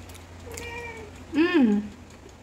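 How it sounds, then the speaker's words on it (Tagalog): A cat meows twice in a kitchen where banana oat chocolate cookies are being made, a short soft mew followed by a louder, drawn-out meow, close by with a person's voice nearby. "Meow? What do you want?"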